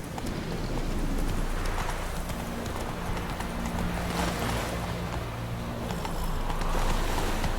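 Roach, a horse in The Witcher 3, gallops with steady clip-clop hoofbeats sustained throughout under a continuous bed of ambient noise and low music-like tones.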